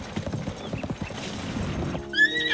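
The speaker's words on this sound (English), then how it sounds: "Jesus, these horses." Horses in Zelda Tears of the Kingdom clop along with quick hoofbeats near the stables, then a whinny rings out over the rhythmic steps toward the end.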